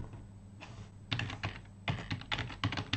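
Keys clatter on a computer keyboard as a username is typed, coming in close, crisp bursts of rapid strokes separated by short pauses.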